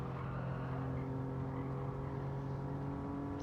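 A Toyota Alphard Executive van's engine in Gran Turismo 7 holds a steady, loud, accelerating drone at Autopolis, its harmonic whine sustained throughout with no letup.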